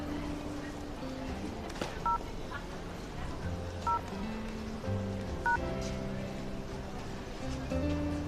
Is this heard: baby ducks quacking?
no